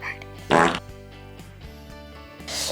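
Soft foam squishy toy squeezed to push out a short loud fart-like burst, followed by quieter squelches and a second puff near the end.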